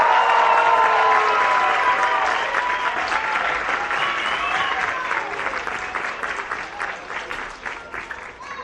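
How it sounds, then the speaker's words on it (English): Big round of audience applause and some cheering for a school's Year 3 band at an end-of-year band presentation, loud at first with faint voices mixed in, then thinning out over several seconds. "I need a big round of applause for these guys."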